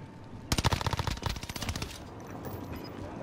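Automatic gunfire in the shooter game Call of Duty: Modern Warfare, a sharp rapid burst of about a dozen close shots that tapers off, with faint game ambience before and after.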